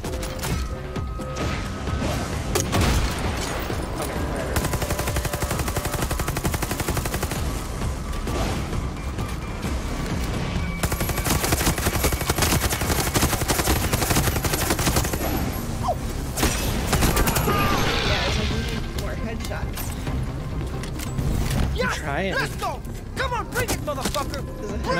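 Rapid bursts of machine gun fire in the Far Cry 6 video game, dense and loud throughout amid crashes, mechanical clatter and game sound effects, with a voice speaking over parts of it.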